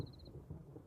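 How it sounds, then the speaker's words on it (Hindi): Distant thunder rolls over the Kalahari after eight months without rain, a low, faint, continuous rumble with no voices. "दूर से आती बिजली कड़कने की आवाज से कालाहारी में भी उत्सुकता जगी है।"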